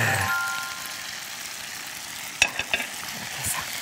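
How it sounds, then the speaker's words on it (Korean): Chicken thigh and chestnuts with oyster sauce stir-fry in a hot pan with a steady close sizzle, a few sharp clacks of the utensil against the pan partway through. "또 살짝 볶아줘요"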